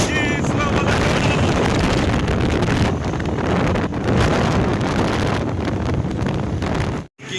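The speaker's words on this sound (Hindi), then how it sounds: "हवा बहुत तेज़ है मोटरसाइकिल पे।" Strong wind buffets a microphone on a moving motorcycle, a loud, unbroken roaring rush with gusty swells that briefly cuts out near the end.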